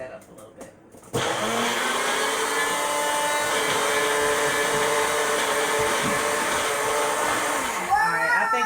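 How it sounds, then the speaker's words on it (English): A blender whirs loud and steady as it purees a fruit and vegetable green smoothie, starting abruptly after a brief quieter moment and running continuously for several seconds before winding down near the end. "So I'm going to blend this portion up real quick first."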